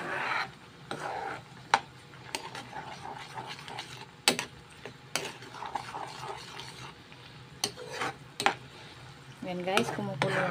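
Coconut milk stew with red chili and dried anchovies in a pot, bubbling at a boil with scattered sharp taps and scrapes of stirring, close and moderately loud with no voices.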